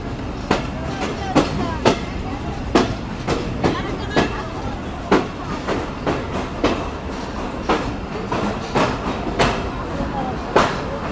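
The Betna Express passenger train rumbles along the rails after leaving Noapara station, with steady, rhythmic clickety-clack beats from the wheels, loud and continuous.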